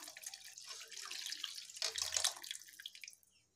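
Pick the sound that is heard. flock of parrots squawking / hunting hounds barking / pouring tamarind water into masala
pouring tamarind water into masala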